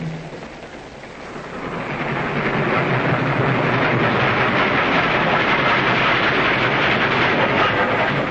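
A train runs along the rails, a loud, continuous rumbling roar that swells in the first two seconds and then holds steady, with no talking.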